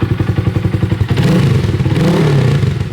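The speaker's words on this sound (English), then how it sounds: "Let's give her a little rev here." A 2025 Honda Grom motorcycle with an aftermarket exhaust, loud and close: a rhythmic lumpy idle putters, then a sharp rev swells into a sustained roar before settling back to the idle pulse.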